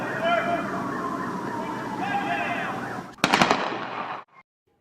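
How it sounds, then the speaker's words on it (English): A police officer fires gunshots, caught on a cell phone video: a rapid burst of several sharp cracks near the end, following a stretch of shouting voices and background noise. "Then you hear Romero's gunshots."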